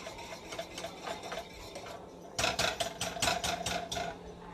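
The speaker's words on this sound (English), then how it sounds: "So we're going to whisk up the grits real good." A whisk beats grits in a pot: quiet, rapid rhythmic clicks and scrapes, growing louder and sharper in the second half, with no talk.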